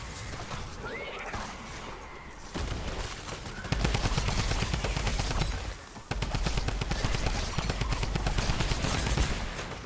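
Assault rifle fire in Fortnite, in its Horde Rush mode: repeated rapid bursts of automatic gunfire, dense and loud, pausing briefly between volleys, with crashes and other combat noise around them.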